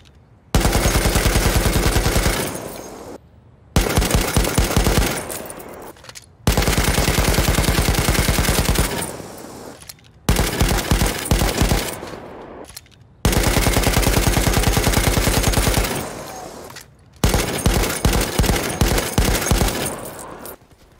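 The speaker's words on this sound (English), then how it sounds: "I do have a little demo of just how useful tapping a high recoil LMG can be" A high-recoil light machine gun in Battlefield V fires in loud, sustained bursts of rapid shots separated by brief pauses, six bursts in a row with no talk.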